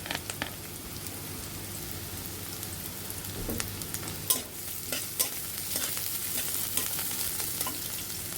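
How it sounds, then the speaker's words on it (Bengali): Black cumin fries in a pan with fresh garden ash gourd and chopped green chili, giving a steady soft sizzle. Repeated sharp scrapes and clicks of stirring sound close by, with no talking. "আমাদের কালো জিরেটা ভাজা হয়ে গিয়েছে"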